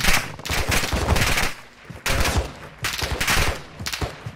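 Automatic gunfire in the video game Warzone, several loud bursts of rapid shots separated by short pauses, close and punchy.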